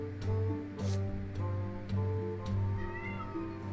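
A pet cat meows repeatedly in short plaintive calls, close and fairly loud, over a steady humming background.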